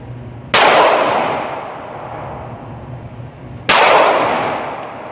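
Two sharp handgun shots at a shooting range, each a loud, sudden crack that decays slowly, about three seconds apart with no other sound.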